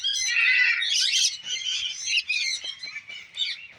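Shrill chirps and squawking calls from several birds in an aviary, including green-cheeked parrots, overlap continuously, bright and close, with no talking.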